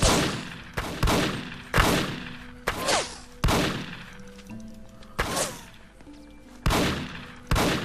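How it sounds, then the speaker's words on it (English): Shotgun blasts in the Apocalypse Rising video game: about nine loud, sharp booms fired at uneven, quick intervals, each with a short ringing tail, and no talk over them. "He had a shotgun too!"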